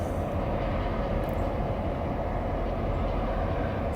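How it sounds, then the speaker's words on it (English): A slow-moving CSX freight train rolls past outdoors, giving a steady, continuous low rumble of railcars that holds level throughout with no talk. "CSX train, which is a freight train, right?"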